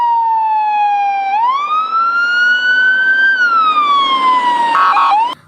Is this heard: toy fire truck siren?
yes